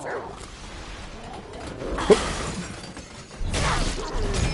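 In the video game Remnant: From the Ashes, a dog gives a few yelps and whimpering barks amid combat noise, including a sharp impact, with players talking over it.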